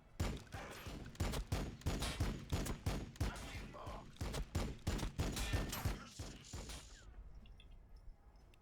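Rapid volleys of gunfire ring out in a Warhammer 40000 Battlesector multiplayer match between Blood Angels and Necrons, with loud, rhythmic bursts repeating for about seven seconds before trailing off into quiet.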